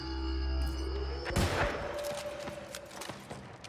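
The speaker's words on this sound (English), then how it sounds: "There's a cannon on the right." Cannon fire during a New World invasion battle at Weaver's Fen: a loud low boom near 1.4 seconds after a steady low rumble, then scattered sharp impacts and crackling gunfire-like bursts.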